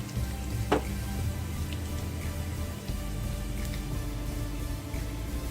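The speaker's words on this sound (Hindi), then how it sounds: "अब इसके ऊपर ये तड़का डाल दें।" A tempering of hot oil with curry leaves sizzles and crackles steadily over moong masoor dal, a soft continuous frying hiss with a few faint pops, heard close and alone.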